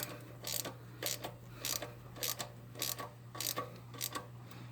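A ratchet with a 10mm socket tightens the rocker bolts on a Nissan Hardbody head during a head gasket repair, giving short bursts of clicking pawl strokes in a steady rhythm, faint and close, over a low hum.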